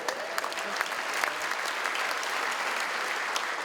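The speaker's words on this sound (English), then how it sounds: "A round of applause for my father, you guys." A comedy festival gala crowd claps for the host's father, a dense, fairly distant wave of applause holding steady for several seconds with a few sharper individual claps poking through.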